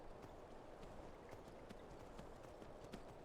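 A horse gallops in the video game Skyrim, its hooves clip-clopping in a quick, even rhythm, quiet and steady throughout with no talk.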